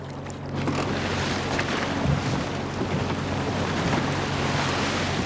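Rough sea churns and rushes around a skate longline fishing boat off Heuksando, with steady wind and engine rumble underneath, continuous and close, no voices.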